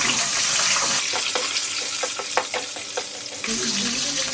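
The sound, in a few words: whole spices, bay leaves and green chilies frying in pan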